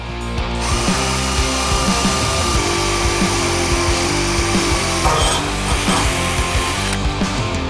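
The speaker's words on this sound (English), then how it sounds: "I'm running a small pilot drill bit first" A power drill runs a small pilot bit into steel, a loud, steady high-pitched whir with grinding texture that continues for several seconds, slight pitch wavering, ending abruptly; no talk.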